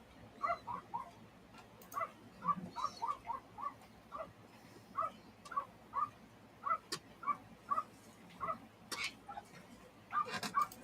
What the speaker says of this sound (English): The dog is very active today.